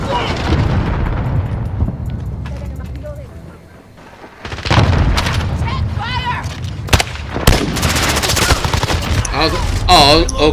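Loud, dense gunfire in a first-person shooter video game, with rapid bursts and booming shots after a brief lull, mixed with game sound effects and a player talking over the action.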